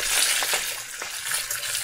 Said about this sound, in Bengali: তো এখানে দেখো মাছের মাথাটা ভাজা হচ্ছে